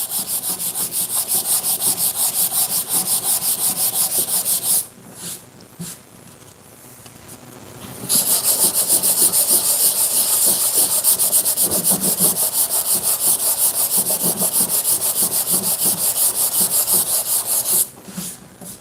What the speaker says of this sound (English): I'm just hitting this with 400 grit sandpaper because I don't want to take off the veneer